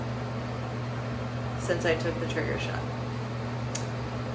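A steady electric fan hums and whirs in the background with a constant low drone while a person speaks briefly over it.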